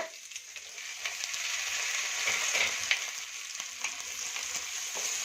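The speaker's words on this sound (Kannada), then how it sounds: "ಇದನ್ನ ಚೆನ್ನಾಗಿ ನಾನು ಫ್ರೈ ಮಾಡ್ಕೊತೀನಿ" Sliced apple tomatoes fry in masala in a pan for dhaba-style paneer butter masala, a steady, bright hissing sizzle close by with occasional soft stirring taps, and no voices.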